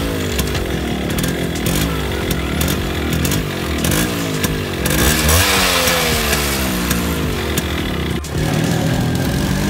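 Yamaha RX135 two-stroke motorcycle engine running after its carburetor was cleaned, loud and close, with a raspy, buzzing note that rises and falls in repeated throttle revs throughout and dips briefly near the end.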